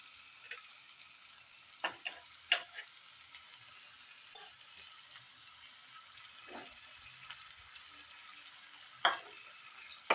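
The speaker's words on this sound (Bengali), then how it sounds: "এখন আমি এতে ফেটিয়ে রাখা টক দইটা দিয়ে দিচ্ছি।" Whisked yogurt stirred into frying masala for baby potatoes, with a soft sizzle and scattered clinks and scrapes of the spoon against the pan, fairly quiet and close, no talking.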